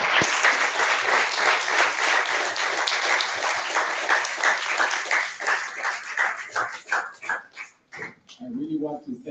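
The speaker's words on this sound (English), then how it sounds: "Please join me in giving our panelists an applause." An audience at a panel discussion applauds in a dense, sustained wash of clapping that thins into scattered individual claps toward the end, with a voice speaking briefly as it fades.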